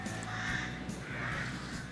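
Rooks cawing in woodland, a steady chorus of harsh caws from several birds at moderate distance, continuous over a constant outdoor background with no talk.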